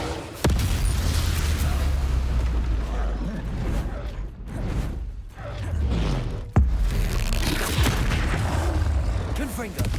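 Fiery blasts from the Confringo spell in the Hogwarts Legacy video game, fought against an Ashwinder, booming loud and near in a dense run of bursts, with a short lull midway before another sharp crack and more rumbling impacts.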